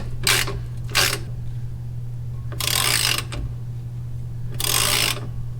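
A torque wrench tightening a front suspension bolt on a 1963 Ford Falcon Futura hardtop: four separate bursts of quick ratcheting clicks, two short and two longer, close by over a steady low hum.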